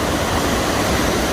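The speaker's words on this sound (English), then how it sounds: "The water spilling out." Water spills over a dam into a river on the Appalachian Trail, a loud, steady, dense roar with no breaks or voices.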